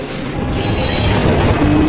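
A train rolls along the rails, a loud, steady rumbling roar with faint metallic squeal, continuous and close for the whole stretch.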